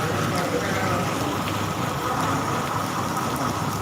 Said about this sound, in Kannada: ಮಳೆ ಬರ್ತಾ ಇದೆ